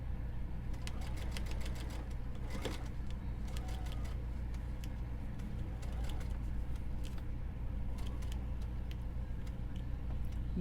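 A sewing machine stitches a fabric soup cozy with a continuous low motor hum and rapid needle ticking that starts and stops in short bursts, faint and close with no talk.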